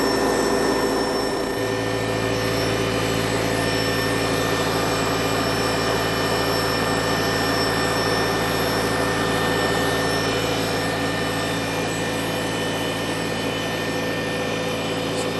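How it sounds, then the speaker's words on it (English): A 1953 Farmall Cub tractor engine, fitted with a badly warped carburetor, idles steadily at close range, giving a constant droning hum that holds an even pitch throughout. "Doesn't this Cub sound like it's running fine?"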